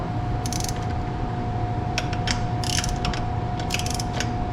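A ratchet on a universal joint turning bolts on a Mopar four-speed transmission under a car, giving several bursts of rapid clicking over a steady mechanical hum, close up, with no talking.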